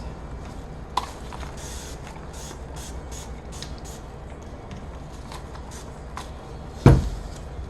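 Several short, hissing spritzes from a spray bottle come in quick succession, followed later by a single sharp knock.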